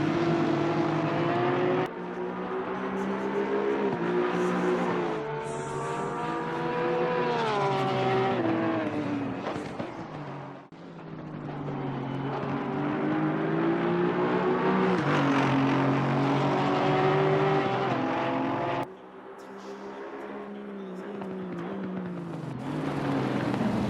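Aston Martin and Porsche GT race cars in a sim racing game at the Bathurst circuit, their engines droning loudly and continuously as they rise and fall through gear changes, with a brief dip around ten seconds and a drop before nineteen seconds.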